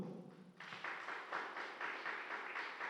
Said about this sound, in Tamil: ஐயாவுக்கு இன்னொரு கரகோஷம் கொடுத்தீங்கன்னா ரொம்ப சந்தோஷமாக இருக்கும்